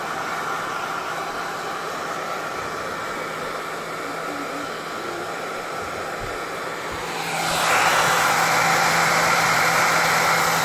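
An electric hair dryer runs steadily with a broad whooshing roar, then jumps to a louder, brighter setting about two-thirds of the way through and keeps blowing close by.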